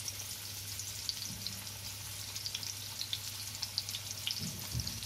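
Trevally fish frying on a tawa over a high flame, a close, continuous sizzle dotted with frequent bright spits and pops and a few soft scraping stirs.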